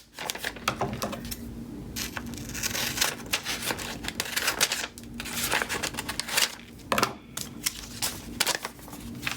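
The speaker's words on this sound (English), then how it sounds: "And then I'm going to trim off this excess." Paper being trimmed for a junk journal signature: irregular crisp cutting and rustling strokes, close and fairly quiet, with short pauses between clusters of snips and scrapes and no talking.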